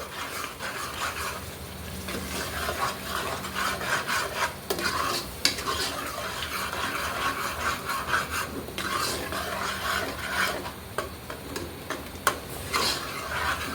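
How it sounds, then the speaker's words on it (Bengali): A spoon scrapes and stirs thick chana masala paste in a pan, a steady continuous rubbing and scraping with faint sizzle, close up and with no voices. "এটা দিয়ে অনেকক্ষণ ধরে নেড়ে চেড়ে নিতে হবে"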